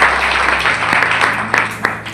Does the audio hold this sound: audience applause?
yes